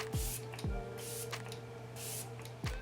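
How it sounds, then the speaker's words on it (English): Tarte Stay Spray setting spray misted onto a face: three short, soft hissing spritzes spaced about a second apart over a low steady hum. "I'm gonna use my Tarte Stay Spray just to lock it in place."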